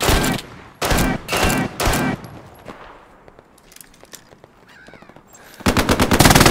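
Machine gun fire in the World War II shooter Hell Let Loose comes in loud close bursts, three at the start and a longer rattle at the end, with scattered distant shots and footsteps in between.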